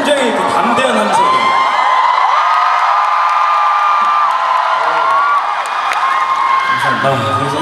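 A concert audience at a gala show in Incheon lets out a loud, sustained roar of cheering and whooping, shrill voices holding for several seconds before dipping and swelling again.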